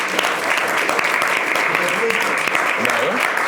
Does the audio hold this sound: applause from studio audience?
yes